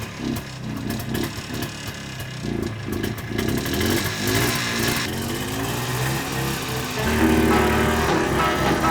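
A smoky two-stroke beginner ATV engine revs in close, loud bursts, pulsing rhythmically early on, then holding a rougher steady drone, with the throttle rising again near the end.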